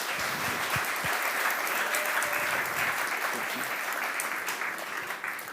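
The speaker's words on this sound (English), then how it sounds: "I want you to please give a round of applause for the next speaker of today" Hearty audience applause for the next TEDx speaker, sustained and even across the whole stretch, with a few louder individual claps near the start and a slight fade toward the end.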